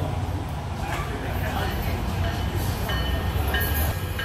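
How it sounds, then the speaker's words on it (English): A train rumbles past a bar in Delray Beach, a steady loud low roar with rolling rail noise and faint higher squeals, while a voice can be heard under it. "Another train."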